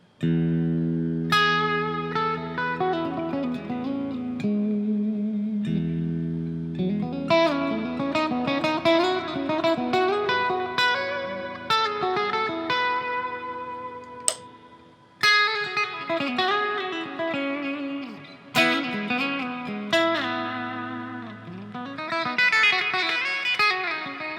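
Clean Bootlegger Royal electric guitar in first pickup position, tone fully up, coil tap off, plays a bright, sustained run of picked notes and chords, loud and close, with short pauses between phrases.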